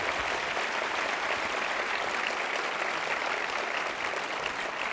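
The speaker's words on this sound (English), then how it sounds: "Big round of applause." A large audience at a business travel convention welcome session gives a round of applause, dense, even and continuous clapping filling the whole stretch.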